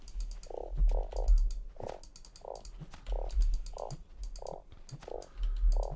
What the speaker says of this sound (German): Da ist ein Frosch.